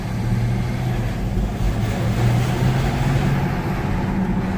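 A Mercedes ML320 CDI with a turbo actuator fault, repaired and now out on a road test drive: a steady, continuous engine and road drone heard from inside the car, fairly loud throughout with no speech.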